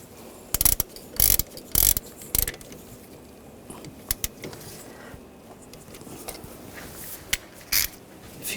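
A ratchet tightens a nut on the alternator of a 2006-2009 Mercedes-Benz E350, heard as a few short, sharp clicking bursts separated by quiet pauses, close up.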